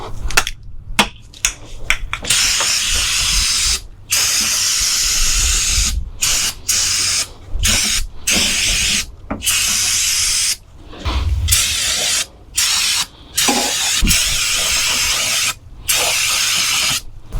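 Aerosol spray paint hissing onto a 1/10 scale RC car body, in repeated bursts of a few seconds each separated by short pauses, close and steady.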